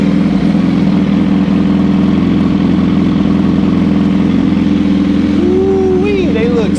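Suzuki Hayabusa motorcycle engine idling steadily on a dyno, a constant low rumble throughout with a faint high whine rising near the end.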